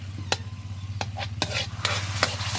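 Garlic sautéing in a pan with a steady close sizzle, broken by several sharp clinks and scrapes of a spatula stirring against the metal.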